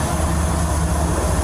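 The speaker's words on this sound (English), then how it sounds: "We'll wait till the train passes." A passing train rumbles steadily and loudly close by, a continuous heavy low roar of railcars rolling past with no talk over it.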